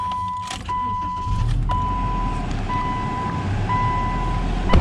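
A 2011 Subaru Legacy Limited AWD with 108,000 miles starts up about a second in, settling into a steady low idle rumble beneath a repeating dashboard warning chime.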